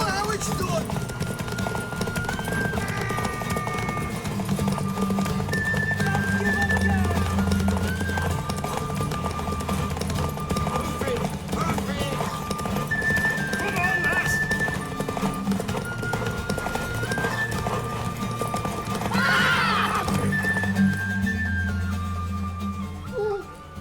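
A horse's hooves clip-clop steadily over a long stretch while the horse neighs and whinnies, mixed with dramatic music and people speaking over it.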